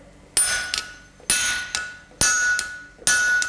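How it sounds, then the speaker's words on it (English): A sledgehammer strikes a blacksmith's flatter laid on a hot steel bar, four loud, ringing metallic clangs spaced about a second apart, each with a brief bright ring and a quieter secondary tap between blows. "I'm going to lay my flatter on top, and we're going to use a Striker to sort of smooth it out"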